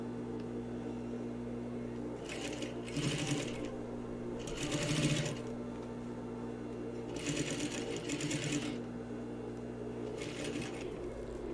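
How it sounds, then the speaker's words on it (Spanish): A sewing machine stitches the seam of a double-welt pocket on a tailored vest in short bursts, four or five quick runs of rapid clatter separated by pauses, close and fairly quiet with no talking. "termino la costura de la tapa nuevamente sobre la pestaña de medio centímetro"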